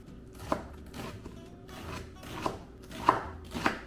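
A knife chops parsley rhythmically on a cutting board, about six sharp taps spaced roughly half a second apart, close up with no talking.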